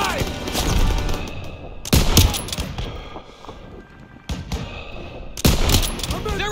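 Sustained gunfire in a Call of Duty battle against a heavy German force, with several loud bursts of rapid shots and thuds, separated by quieter stretches of distant firing and battle noise.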